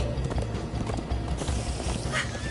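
Horses gallop in the Minecraft Story Mode video game, a loud, rapid clip-clop of hooves close by, with a brief whinny and some mechanical rattling mixed in.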